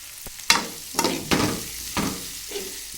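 Food being stirred in a hot pan: scraping strokes against the metal every half second or so over a soft continuous sizzle, close and moderately loud.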